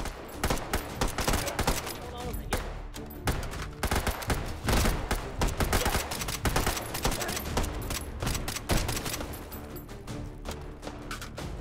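Rapid gunfire in the VR shooter Hot Dogs, Horseshoes & Hand Grenades, in Take and Hold Special Forces mode: dense, overlapping bursts and single shots crackle nonstop at close range for the whole stretch, with no clear voice on top.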